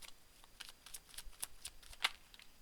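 A deck of tarot cards is shuffled by hand, giving soft, quiet flicks and riffles in an uneven patter, with one sharper snap near the end and no voices.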